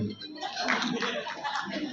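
Audience clapping at an arts council musical award show, a short burst of muffled, blended applause with some voices under it.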